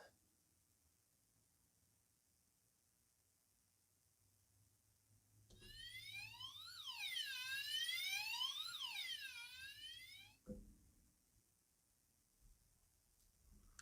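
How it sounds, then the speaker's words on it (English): A police siren sound effect wails for about five seconds in a quiet Peppa Pig story reading, a loud rising and falling electronic tone that cuts off abruptly. "Officer Panda puts on the siren."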